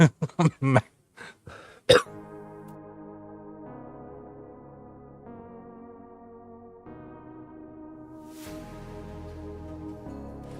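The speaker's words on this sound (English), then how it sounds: "Sorry about that. I had a cough." A short burst of several harsh coughs in quick succession, close to the microphone, followed by a soft sustained musical drone.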